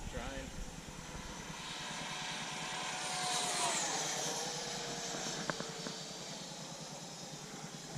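A Freewing F-22 Raptor 90mm electric ducted-fan RC jet whooshes past a runway, its hiss swelling near the middle and fading away, steady and moderately faint.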